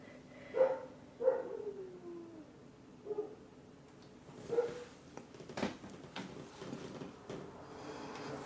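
A dog barks four times in the distance, a few sharp separated yaps echoing outdoors in northern woods, followed by some rustling and handling noises close by.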